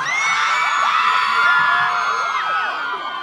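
A concert crowd at Open Ear at UWI screams and cheers loudly and continuously, with piercing whoops and shrieks layered throughout.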